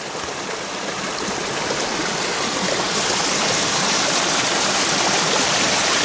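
Running water in a stream through Georgia woodland gives a steady, close, even rushing hiss that continues unbroken for the whole stretch, with no voices over it.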